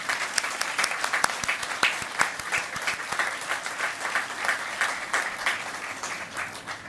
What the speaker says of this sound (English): Please join me in giving a round of applause for Master Sergeant Heil